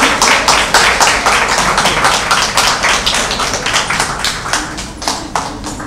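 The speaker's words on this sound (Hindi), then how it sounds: "आप सभी ज़ोरदार तालियों से स्वागत करिए।" An audience at an award ceremony for a newspaper group's foundation day applauds, a steady, loud clapping with a regular rhythm of individual claps that holds throughout and fades slightly toward the end, with no talk over it.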